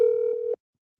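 A steady electronic telephone tone sounds on an outgoing live call, holding for about half a second before cutting off into silence.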